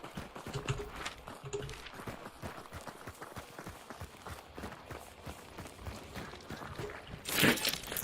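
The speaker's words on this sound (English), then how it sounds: "I heard a horse." Horse hooves clip-clop at a steady trot through a busy Hunt: Showdown game soundscape, followed by a brief bright burst near the end.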